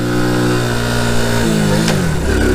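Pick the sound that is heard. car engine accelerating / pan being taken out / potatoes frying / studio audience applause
car engine accelerating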